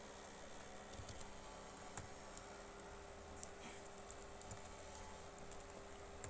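Quiet typing on a computer keyboard, soft irregular key taps with a few sharper clicks scattered through, faint and close, with a low steady hum beneath and no talk.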